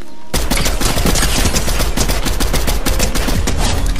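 Rapid, loud automatic fire from a gun in Fortnite erupts after a brief quiet start, then keeps hammering in dense, continuous rounds up close with almost no pause.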